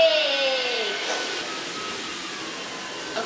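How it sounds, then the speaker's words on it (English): Vacuum cleaner sucking up bits of plastic in an apartment, a loud continuous whooshing roar with a falling whine at the start, close by and steady throughout. "already started to vacuum because there's like just like plastic and stuff"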